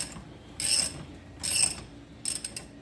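Hand ratchet cranking on a shock bolt of a Can-Am Outlander XT ATV, three short bursts of quick clicking spaced under a second apart, close and fairly quiet.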